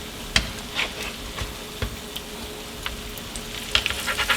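Catfish cakes frying in a pan of cooking oil, with a soft steady sizzle punctuated by several sharp crackles and spits, close by, and a short cluster of pops near the end; no talking.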